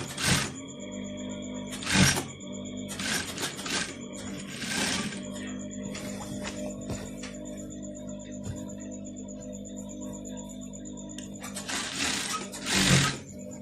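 A sewing machine stitches a round sleeve of an Owoko garment in several short whirring bursts separated by pauses, close and clear, with faint clicks between runs.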